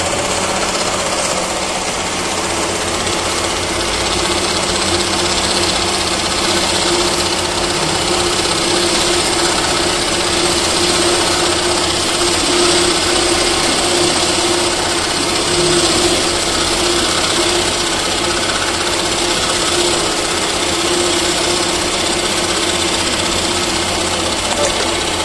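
A milling machine in a manufacturing lab cuts a gear blank, giving a loud, continuous grinding whir with a steady mechanical hum and rattle that holds evenly throughout.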